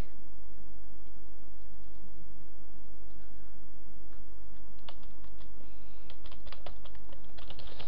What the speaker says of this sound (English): It won't let me type on my computer